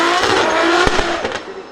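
A Toyota drift car with about 600 horsepower slides sideways at a motorsport festival, a loud continuous roar of engine and squealing tires filling the short burst without pause.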